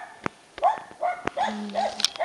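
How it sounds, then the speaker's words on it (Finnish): An older elk-hunting dog gives a few short, close barks and yips at an uneven rhythm, with quiet gaps between them and no talking. "on toisesta koirastani video"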